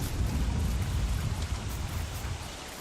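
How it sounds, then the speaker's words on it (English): Steady rain falls in the video game Don't Starve, a dense, even wash of low rumbling patter that holds at a constant level with no voices over it. "It's raining."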